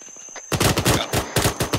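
Loud bursts of automatic gunfire from a military video game, rapid repeated shots in two long volleys separated by a brief gap.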